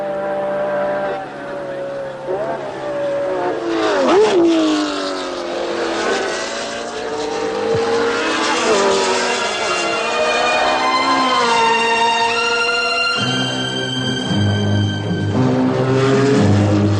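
Formula racing cars roar past, Jim Clark's Lotus among them, engines whining and rising in pitch through repeated gear changes, loud and sustained with a shift to a deeper drone near the end.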